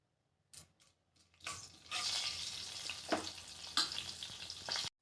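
Mustard seeds, cumin, turmeric and chana dal sizzle and crackle in hot oil for an Andhra-style tomato rasam, starting with a few small pops before settling into a steady, fairly close frying hiss with occasional louder spits.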